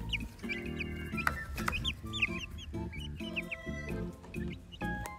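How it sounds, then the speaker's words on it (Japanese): Young chicks being tended near alpacas in a home garden give continuous high, rapid peeping chirps, close and fairly loud, with overlapping calls throughout. "そしてこちらは、お世話中のひよこさんたちを見るココちゃんです。"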